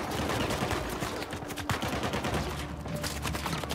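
Shotgun fire in the video game Uncharted 4 comes as a dense, continuous barrage of overlapping blasts and impacts, loud and busy throughout with no pauses.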